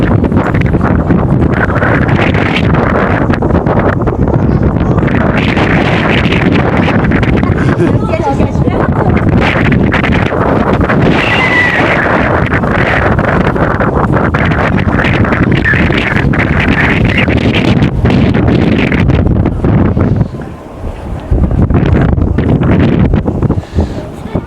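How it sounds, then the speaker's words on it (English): Strong wind buffets the microphone atop a huge bird's-nest-shaped structure in a Chinese city, a loud continuous roar and rumble under intermittent talk, dipping briefly near the end. "It's really windy"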